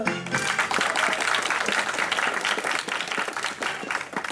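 An audience at the Orsay Physics Show breaks into loud, sustained applause for a presenter; the dense clapping runs unbroken through the whole stretch, swelling slightly in places.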